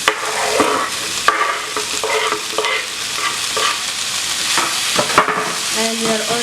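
Tomatoes are stirred into beef frying with vegetables, giving a loud, steady sizzle with repeated spoon scrapes and clinks against the pan throughout.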